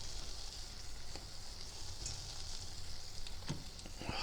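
Tunisian yoyo dough fries in hot oil, a steady close sizzle with occasional pops and light clinks, no talking.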